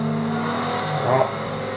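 A car engine at full throttle in the video game Forza Horizon, driving a Nissan 370Z, gives a steady, loud droning hum with a slight rise in pitch while someone talks over it.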